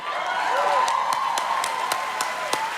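Audience clapping at a Black cinema and television awards celebration, a steady roomful of applause with sharp individual claps standing out, running under a sustained tone and no speech.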